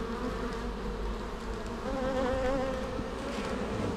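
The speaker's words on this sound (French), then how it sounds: "On voit qu'il y a une belle activité au niveau de cette ruche." Honeybees work busily at a beehive on a summer visit, giving a steady close buzzing hum that fills the whole stretch with no voices over it.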